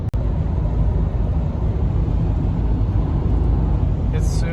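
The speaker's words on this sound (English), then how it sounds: "It's super windy today." Strong wind buffets a car cruising on the highway between Yuma and San Diego. The cabin is filled with a loud, constant low roar that barely changes over the stretch.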